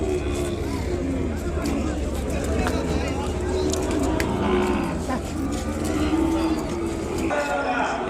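A calf and cattle moo repeatedly at a busy livestock market, loud and close, against a background of crowd chatter and people talking.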